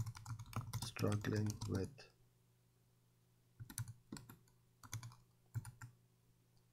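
Keys on a computer keyboard clatter in short bursts of quick taps, close and fairly quiet, following a brief stretch of someone talking.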